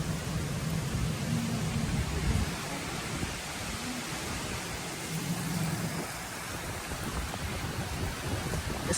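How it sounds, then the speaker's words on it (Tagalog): Heavy hurricane rain in Florida pours as a dense, continuous hiss with low rumbling underneath, steady and enveloping throughout. "Grabe, super lakas na guys ang ulan dito."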